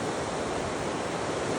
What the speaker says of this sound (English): you guys probably hear all the water running, I bet, in the background.